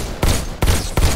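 Three loud, close pistol shots from the VR shooting game Bullet Train, fired in quick succession about a third of a second apart, each a sharp bang with a short tail and no talking over them.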